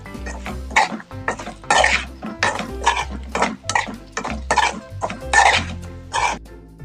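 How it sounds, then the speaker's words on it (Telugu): A spoon stirs fried egg pieces into egg chutney in a metal pan, scraping and clanking in about ten quick rhythmic strokes close up, with no voices. "ఎగ్ ముక్కల్ని వేసుకొని అంతా కలిసేలా ఒకసారి కలుపుకున్నాం"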